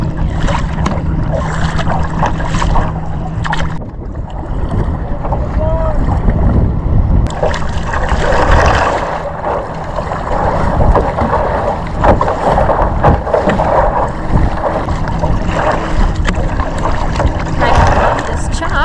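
Water splashes and sloshes against a kayak in choppy water on Lake Geneva amid gusty wind noise on the microphone, continuous and close.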